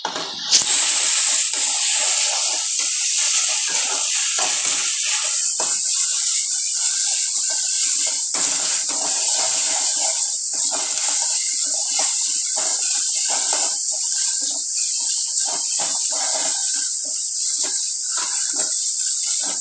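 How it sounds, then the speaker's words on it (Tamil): Ginger garlic paste and onion sauté in a pan for a pepper chicken gravy, a loud, steady sizzling hiss that runs unbroken throughout. "நல்லா இந்த இஞ்சி பூண்டு பேஸ்ட்டு நல்லா வதங்கணும். வெங்காயத்து கூட சேர்ந்து இந்த பச்சை வாசனை போகிற வரலாம் வதக்குங்க."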